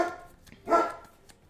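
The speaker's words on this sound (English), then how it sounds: "I know one thing, it's my dogs love barking." A pet dog gives two short barks, close and fairly loud, the second one stronger, with no talk around them.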